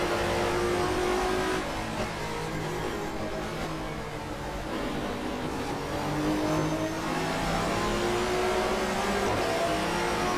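A 1994 German Touring Car Cup car races at the Nürburgring in the GTR2 racing game, its engine droning loud and constant with rising revs through the gears and other cars' engines close around it.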